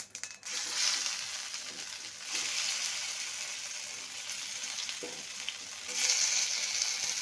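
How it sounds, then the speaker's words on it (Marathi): Phulkas hitting hot oil in a kadai with cumin: a steady bright sizzle and crackle that surges when pieces go in, fairly close, with no talk. "कढई ठेवली तेल गरम झालं जिरं टाकून घेऊ छान आपले फुलके टाकून घेऊ"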